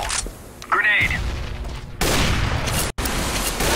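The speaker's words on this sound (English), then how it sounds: "Fire in the hole! Grenade!" A grenade blast and gunfire in a tactical shooter video game. A sudden loud burst of noise hits midway and rolls on as heavy sustained firing with a brief dropout, and chatter comes beforehand.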